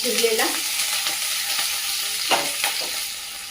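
Garlic, curry leaves and chopped onion stir-frying in a pan, a steady close sizzle with occasional soft scrapes and clicks of a spoon.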